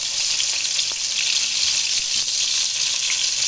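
Eggplant pieces frying in hot mustard oil give off a steady, dense sizzling hiss that holds evenly throughout, close and fairly loud with no talking.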